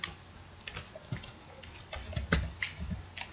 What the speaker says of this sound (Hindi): पहले इसको मैनुअल टाइप करते हैं